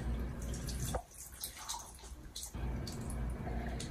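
Water pours and drips while a newborn baby is rinsed during a bath, a close, steady splashing stream that breaks off briefly and then resumes.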